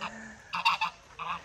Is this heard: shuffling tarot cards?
no